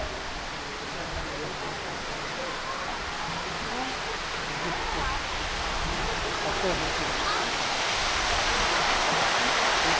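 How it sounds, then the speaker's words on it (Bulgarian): A small waterfall pours into a pool in an outdoor spot built of stone and natural materials, giving a steady, broad rushing wash of water that grows slightly louder over the ten seconds. "Ето едно мини водопадче с басейн."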